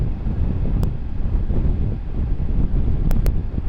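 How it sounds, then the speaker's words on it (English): Steady, loud wind roar buffets the microphone while riding a 2023 Triumph Tiger 900 Rally Pro motorcycle with its screen in the low position, a constant low rumble with a few brief clicks. "Today it's actually quite windy."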